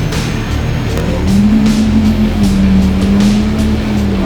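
An old BMW E30 held high in the revs on a test drive, its engine a loud, steady, close drone with a rising and falling tone throughout.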